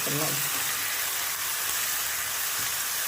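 Chopped dill leaves fry in oil for upma, giving a steady, bright hiss with a brief voice-like murmur at the start before the sizzle carries on alone.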